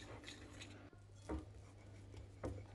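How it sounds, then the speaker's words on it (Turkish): Bread dough with added flour being mixed in a bowl, a faint, quiet scraping and stirring broken by a couple of soft knocks. "Şimdi üzerine tekrar 1 su bardağı daha un ekliyorum. Tekrar güzelce karıştırıyorum."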